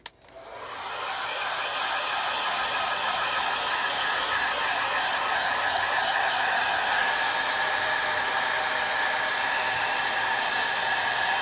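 A hair dryer drying chalk paint on a gourd scarecrow switches on and then blows in a steady, loud, close whoosh for the rest of the stretch, with no voices.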